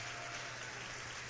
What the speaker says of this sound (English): Let's go ahead and round of applause for that one.